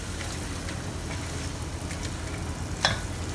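Herbal chicken braising in yellow wine with red dates, button mushrooms and oyster sauce is stirred in a pan, giving a steady close sizzle under scraping stir strokes, with a sharper clack near the end.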